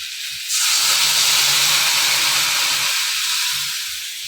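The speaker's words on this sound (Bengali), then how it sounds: "এই যে গরম জল করেছি এখানে, এই জলটা এখন দিয়ে দেবো মাছের ভিতর।" Hot water poured into a pan of fish cooked with ground mustard paste gives a loud, close, steady hiss that starts abruptly, holds for about two and a half seconds, then fades away.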